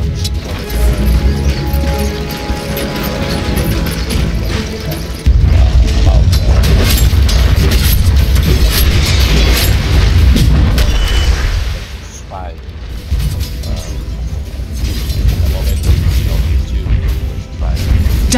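Dota tower under attack brings a dense, loud run of crashes, booms, thwacks and mechanical clatter, with a voice speaking over the game combat throughout.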